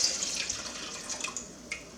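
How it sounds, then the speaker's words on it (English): Water and white vinegar pour into a pot for pickle brine, a steady, close splashing stream that tapers off over about two seconds. "in here I have a cup of water and a cup of white vinegar. I'm going to add that."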